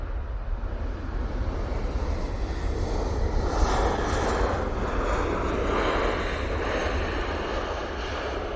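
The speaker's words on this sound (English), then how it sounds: "Nice landing there from the 737 MAX 8." Boeing 737 MAX 8 jet touching down at an airport, a loud sustained roar of engines and rushing air heard from close by, swelling slightly midway and holding steady.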